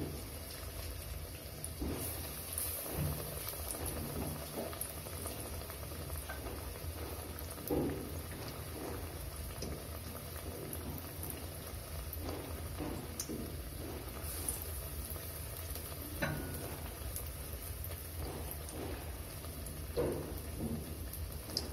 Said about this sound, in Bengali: আমার তেল রেডি। এবার আমি একে একে বেগুনিগুলি দিয়ে দেব।